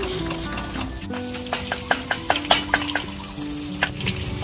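Chicken wings frying in hot oil in a home kitchen, giving a steady close sizzle with scattered pops and crackles throughout and no talk.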